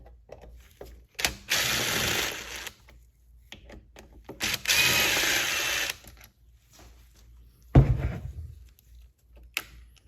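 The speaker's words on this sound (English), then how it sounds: "Now we can take these screws out and the whole carburetor assembly should come out with it." Screws are driven out of a small-engine carburetor on a leaf blower, weed eater, edger or chainsaw with a powered driver, giving two loud whirring bursts of a couple of seconds each, separated by quiet handling noises and a sharp clunk.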